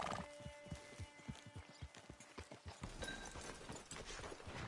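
Horse hooves clip-clopping in Red Dead Redemption, a quick, even trot of sharp hoof strikes that sounds close and fairly loud, with a brief whinny-like tone partway through.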